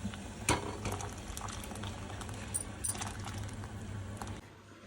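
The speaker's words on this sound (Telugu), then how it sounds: "పప్పుచారు ఇప్పుడు బాగా మసిలిపోయిందండి" A pot of lentil soup with drumsticks bubbling at a low simmer, soft gurgles and pops over a steady hum, with a few faint metallic clinks.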